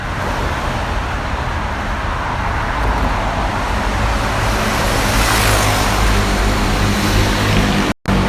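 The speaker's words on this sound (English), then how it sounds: "Whenever cars are passing me, I feel like I should be holding a cardboard sign." Cars passing on Tokyo's Rainbow Bridge, a continuous loud roar of traffic that swells as vehicles rush close by, with wind buffeting and a brief dropout near the end.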